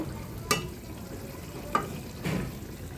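Frozen tomatoes dropped into a pan of frying puti fish: a soft steady sizzle broken by three distinct clatters and thumps as pieces go in, close and quiet.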